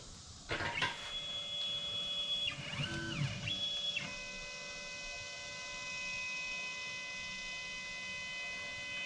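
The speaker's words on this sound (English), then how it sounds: "we're going to run the job with the plasma cutter off" A CNC plasma table traces its cutting path with the torch switched off: stepper motors whine in sliding, shifting pitches for a few seconds over a steady electrical hum that carries on alone afterward.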